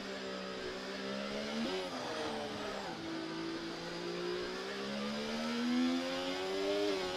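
F1 race car engine from the F1 24 game on a flying lap at Shanghai, a loud sustained high-revving whine with shifting pitch as gears change, steady and close throughout with no talk.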